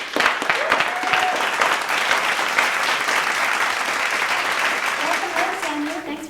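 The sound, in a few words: studio audience applause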